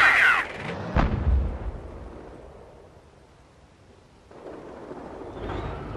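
Booming artillery blasts and gunfire in the Company of Heroes battle at Chambois, with a sharp crack near the start that rolls off into a fading rumble, then renewed distant thudding later.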